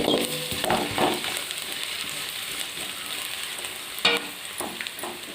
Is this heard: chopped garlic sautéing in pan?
yes